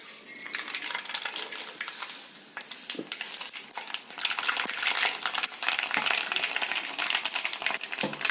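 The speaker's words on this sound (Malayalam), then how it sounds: "കടുക് പൊട്ടി" Mustard seeds pop and crackle in hot coconut oil in a pan, a dense rapid spatter of sharp ticks over a steady sizzle that grows louder partway through.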